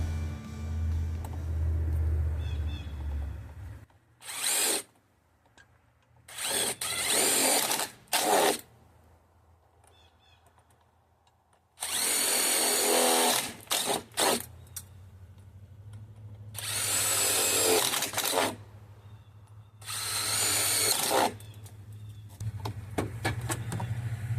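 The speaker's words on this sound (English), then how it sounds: "So now with the drill," An electric drill whirs in several short bursts of a few seconds each while drilling into a rain barrel, close and loud, with quieter pauses and a low rumble between.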